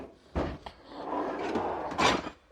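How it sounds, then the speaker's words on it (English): A drawer on a 52-inch stainless steel toolbox slides open and shut, with two sharp metallic clunks at the ends of a rolling, rumbling slide, close and loud. "This is just a drawer for holding tools as I'm cleaning them."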